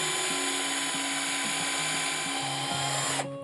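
Small drill bit boring a pilot hole for a screw into a wooden cup stand, a continuous high whine with slight pitch shifts that stops abruptly near the end.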